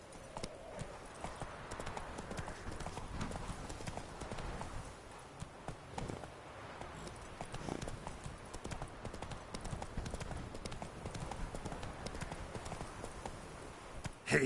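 The horse Roach gallops in The Witcher 3 video game, a continuous rapid clip-clop of hooves over game ambience, close and steady for the whole stretch, with a short voice near the end.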